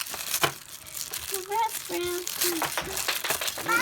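Gift wrapping paper crinkles and rustles close up as a present from a friend is unwrapped, brief crackling bursts with a few faint tonal squeaks, and a voice is heard briefly.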